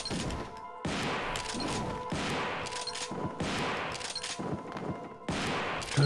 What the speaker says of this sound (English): We've got a shotgun and a fixed bug where you can fire it super fast.